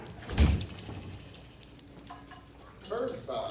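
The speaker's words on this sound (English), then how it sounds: "Close the door like a regular place." A door swings shut with one solid thump near the start, followed by faint clinks and low background voices.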